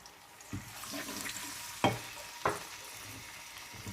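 Garlic and ginger paste frying over a high flame, a soft steady sizzle broken by a few sharp stirring scrapes, fairly quiet and without voices.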